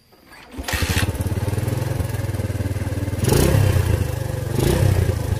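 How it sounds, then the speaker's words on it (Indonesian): A Suzuki Thunder 125 motorcycle with a stock exhaust and its air filter removed idles with a loud, rough, rapid putter, revving up briefly twice before settling back to a steady chug. "yang dihasilkan dari knalpot seperti ini knalpot standar cuman saringannya udah lepas"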